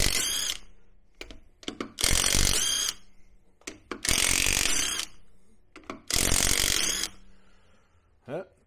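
A Neiko cordless half-inch drive impact wrench hammers in four loud, close bursts of about a second each, removing truck lug nuts, with short pauses and light clatter between bursts.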